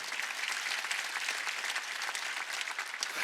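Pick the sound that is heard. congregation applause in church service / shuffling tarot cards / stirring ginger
congregation applause in church service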